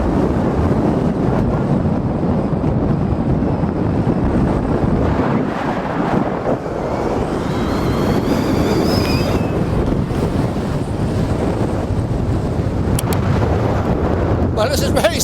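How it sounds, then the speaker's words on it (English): Strong, steady wind buffets the microphone on an exposed upland walk in the Yorkshire Dales, a loud continuous roar with gusty surges and no pauses. "That wind is very, very strong."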